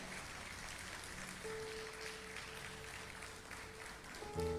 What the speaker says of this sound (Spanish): Le das un aplauso al Rey de Reyes